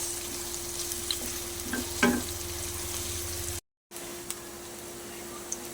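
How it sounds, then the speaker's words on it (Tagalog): Garlic and onion sautéing in butter for a salted egg sauce for chicken wings: a soft, continuous sizzle with occasional scraping stirs, fairly quiet and close, briefly cut to silence partway through, with no talk. "Gisa rin natin yan sa butter, ang ating bawang at sibuyas"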